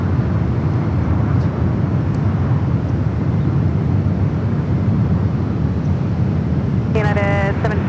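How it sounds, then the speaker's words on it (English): A United Boeing 777 taxis across the runways at San Francisco International Airport, a loud, steady, low jet-engine rumble with wind buffeting throughout and a brief radio chirp near the end. "Got a United 777 crossing over the ones, now heading out to the 28s."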